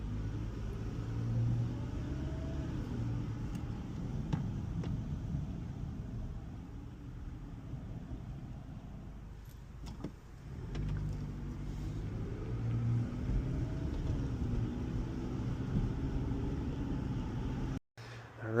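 A 2017 Toyota RAV4 on a test drive after a front and rear brake pad and rotor job: steady low cabin rumble and road noise throughout, with mild engine swells as it accelerates, ending abruptly.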